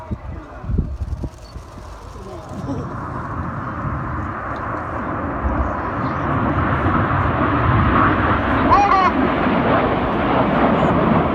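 Red Arrows display jets roar overhead at an air show, a broad rising jet rumble that swells and builds steadily toward the end, loud and sustained with open-air wash.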